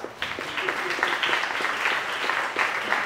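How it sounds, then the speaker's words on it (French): A church congregation claps together in broad, sustained applause for about three seconds, the dense patter steady and fairly loud with a faint voice or two underneath. "Acclamons le Seigneur"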